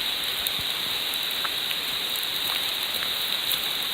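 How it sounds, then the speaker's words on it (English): Dense, steady rain hisses loudly all the way through on a forest trail, with scattered sharper drops pattering on nearby surfaces. "especially with this downpour."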